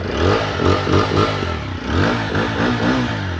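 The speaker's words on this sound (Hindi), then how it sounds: "ये लो आइडियल कंडीशन पर इंजन साउंड सुनो, एग्जॉस्ट नोट, इसमें बुलपअप एग्जॉस्ट है, थ्रॉटल देता हूँ" A TVS Apache RTR 160 4V with a bullpup exhaust revs close and loud as the throttle is blipped in repeated surges, with no talking.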